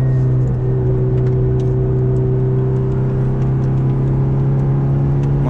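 Ferrari F430 F1 engine droning steadily and loudly at high revs on a racing circuit, a constant close in-car roar with no clear break for gear shifts.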